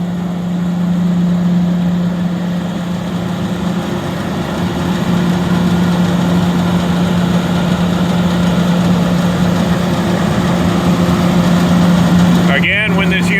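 An Oliver 240 gravity table runs while not bolted down, giving off a loud, constant mechanical hum with a rattling vibration through the machine. The sound stays even until a brief clatter near the end.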